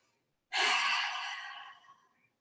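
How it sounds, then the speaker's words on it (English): A single long, audible exhale through the mouth during a gentle hatha yoga flow, close and breathy, starting abruptly and tapering off over about two seconds in a quiet room. "Inhale and exhale."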